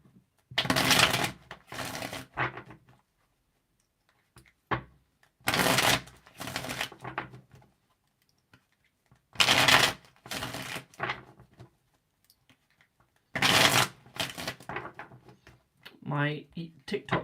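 Cards are shuffled in four separate riffling bursts, close and crisp, with quiet gaps between them and a voice speaking briefly near the end.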